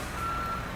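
Steady electronic reversing beep from a truck in Construction Simulator 2022, a single sustained high tone heard briefly over a low engine rumble.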